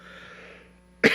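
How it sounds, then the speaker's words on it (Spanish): A single sharp cough bursts out near the end, loud and close, after a faint low hum with a quiet voice trailing off before it. "disculpen mi tos"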